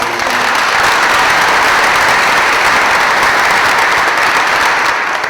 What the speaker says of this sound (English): they really, again, deserve a round of applause too